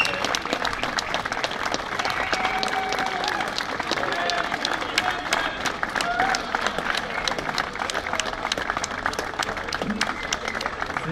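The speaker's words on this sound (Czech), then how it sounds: "Takže velký potlesk pro kvartet lesních rohů." Sustained crowd applause for a French horn quartet at a trumpeters' competition in Pelhřimov, dense and steady throughout with scattered cheers and voices mixed in.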